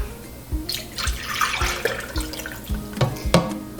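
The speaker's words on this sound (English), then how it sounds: "we are going to pour in 1 cup of milk into this" Macadamia nut milk pours steadily into a cup with gurgling, splashing texture, a few sharper clinks and drips near the end, close and moderately loud.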